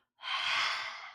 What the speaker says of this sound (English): Exhale, stick your tongue out, draw the belly in, and let out